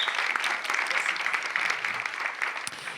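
Audience applauding at a panel about a stop-motion animated series, a short burst of dense, even clapping from a gathered crowd, continuous and moderately loud.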